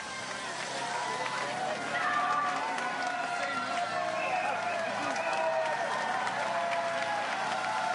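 A roadside crowd at the Tour de France applauds and cheers cyclist Kevin Vauquelin, a steady wash of clapping and crowd noise under a commentator's voice.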